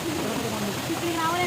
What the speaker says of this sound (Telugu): వాటర్ ఫాల్స్కి అయితే దగ్గరలో ఉన్నాము